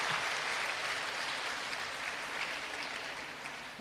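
Steady, moderately loud audience applause for visiting doctors at a women's college alumni cancer-awareness event, continuous clapping with no talk over it.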